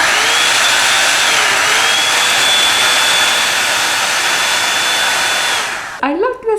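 Revlon One-Step hot air brush hair dryer running steadily as a loud, continuous broadband whoosh with a faint high whine, then switching off near the end as brief voices follow.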